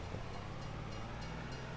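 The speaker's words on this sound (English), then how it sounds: "we just caught the train," Passing train in Farming Simulator 22, a steady low rumble of rolling rail cars heard at a distance, faint and continuous with no talking.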